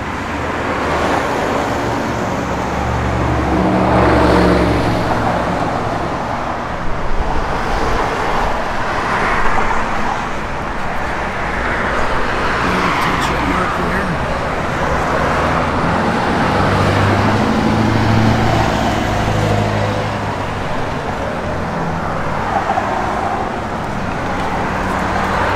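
A 1969 Chevrolet Nova engine idles steadily at close range, a low continuous rumble with faint mechanical texture throughout.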